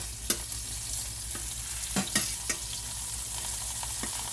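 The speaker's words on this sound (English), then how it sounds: "Get my oil nice and hot. I'm using corn oil tonight" Fish frying in hot corn oil, a steady close sizzle with occasional sharp crackles and pops throughout, no voices.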